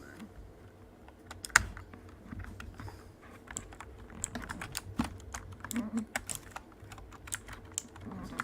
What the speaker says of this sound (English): He's typing on his keyboard?